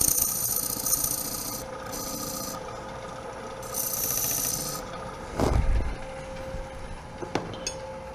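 A point tool cuts wood on a lathe, producing a continuous rubbing rasp with intermittent bursts of bright scraping and a few sharper knocks.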